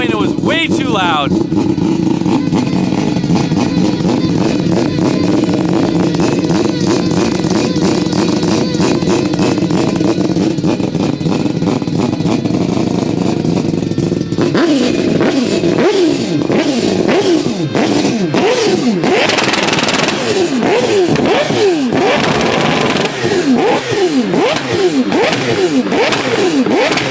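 Straight-piped Toyota MK4 Supra engine running loud and rough at idle, then revving in repeated sharp bursts in the second half; voices talk over it.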